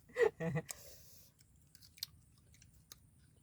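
Chewing on sour tamarind before heading out to the rice harvest: a few close, crunchy bites come in a quick cluster at the start, then fade into faint, sparse mouth sounds over a quiet background.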